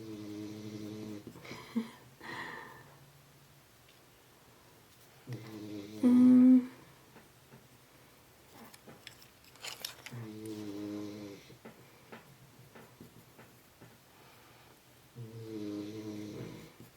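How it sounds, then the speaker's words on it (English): A sleeping dog snores in loud, rhythmic bursts during a quiet colour-pencil drawing session, with several long, rasping breaths spaced a few seconds apart and faint rustling between them. "Hope you're enjoying my dog snoring."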